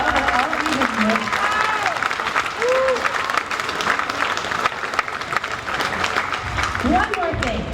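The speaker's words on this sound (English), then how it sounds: "So please round of applause for all of these music." A concert audience applauds orchestra students at a fall school concert, with sustained, fairly loud clapping and crowd noise throughout, while a few voices and faint instrument tones come through underneath.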